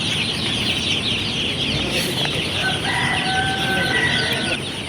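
Broiler chickens on a poultry farm call and crow amid a loud, constant noisy background, with one drawn-out crow standing out partway through.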